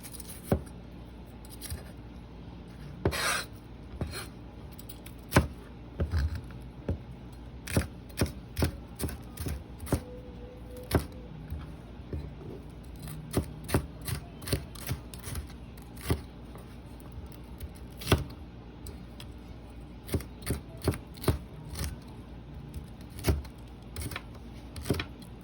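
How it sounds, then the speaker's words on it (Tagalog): Knife slicing bell pepper lengthwise into thin strips on a board, a long series of crisp, irregular cutting taps, close and moderately quiet, with no talk. "Hiwain naman natin ang bell pepper ng pahabang di kanipisan."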